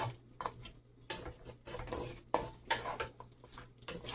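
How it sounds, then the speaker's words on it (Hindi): Paprika being stirred into meat in a pot for bhuna gosht, a run of uneven scraping and clinking strokes from a spoon against metal, close and fairly quiet, with no talking. "अब इसमें पापरिका जो है वो ऐड करते हैं। जी अब इसको अच्छी तरह से मिक्स करते हैं"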